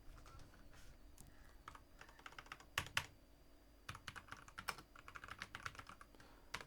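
Typing on a computer keyboard while entering PHP arithmetic operators: quick, irregular clicks of close keystrokes in uneven bursts, with a few louder key hits and brief pauses, and no talking.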